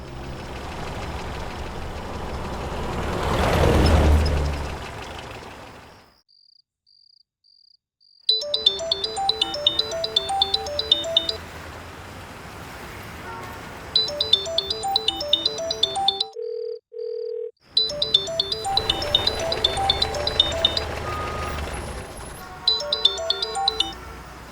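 An electronic ringtone melody plays in repeated bursts with short silent gaps between them, loud and close, with no one talking.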